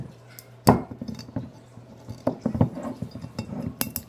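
A sealed Crown Royal Northern Harvest whisky bottle is worked open with a knife: a sharp crack followed by scattered glassy clinks, scrapes and small taps, close and fairly quiet.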